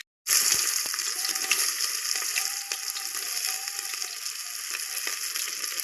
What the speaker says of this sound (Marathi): आणि आता मोहरी चांगली तडतडली की कांदा टाकून घ्यायचा याच्यात.